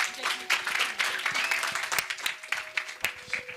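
Audience at a National Archives Week event applauds performers from Northwest University: scattered, uneven clapping with sharp individual claps standing out, fairly close, while a few voices and tones carry faintly beneath it.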